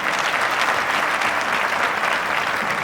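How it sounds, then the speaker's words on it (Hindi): Loud, sustained audience applause at a speech at the Bihar Development Forum, a dense roar of many hands clapping together evenly throughout with no speech heard. "पुनः ताली बजाओ"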